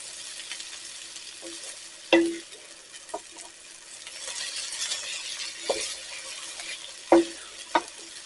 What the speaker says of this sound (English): Now I'm going to turn my heat off. And I'm going to stir this up.